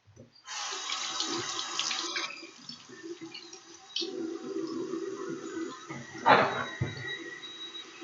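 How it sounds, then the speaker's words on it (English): Metal tools rinsed under a running faucet in a sink: a steady stream of water splashing for most of the clip, with a louder gush of splashing near the end, close by and without talk. "and then wash them off in the water, and I'm going to rinse them off"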